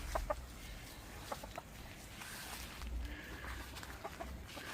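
Chickens cluck softly at a distance in scattered short calls over a quiet outdoor background.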